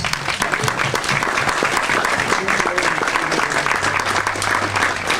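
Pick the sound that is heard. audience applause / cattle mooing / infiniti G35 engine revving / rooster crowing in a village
audience applause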